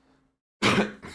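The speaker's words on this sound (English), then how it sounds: "It is a cough, not a sneeze." One short, sharp cough bursts out after a moment of near silence, with a brief second rasp trailing right behind it.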